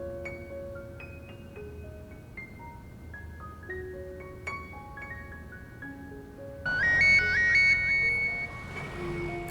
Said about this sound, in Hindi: प्रियंका ने फोन किया।